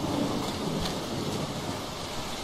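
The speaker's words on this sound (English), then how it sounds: "Oh wow, there is a thunderstorm, like I said." A thunderstorm with rain in The Walking Dead video game gives a dense, steady rush of rainfall with a low thunder rumble underneath, heard alone without talking.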